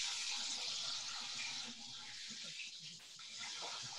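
Warm water runs steadily from a kitchen tap as dough for hallah is prepared, a continuous hissing rush that stays loud throughout with no voices.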